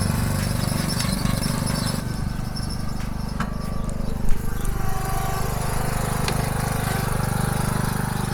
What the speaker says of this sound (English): It's almost evening and Tommy is still mowing